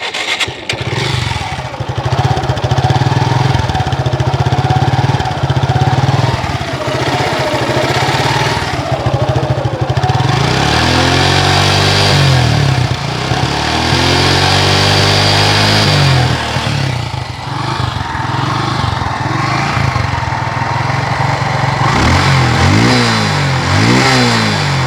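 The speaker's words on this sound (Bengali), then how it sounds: "এবার আপনাদেরকে গাড়ির ইঞ্জিনের সাউন্ড শোনানোর চেষ্টা করব" A Suzuki Gixxer Monotone motorcycle with about 20,000 km on it idles loudly up close, its single-cylinder engine rising through several sharp revs and settling back between them, steady throughout with no talking.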